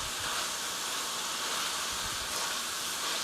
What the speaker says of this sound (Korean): 버섯 넣어서 스터 프라이 3미닛 3분 정도 볶아주세요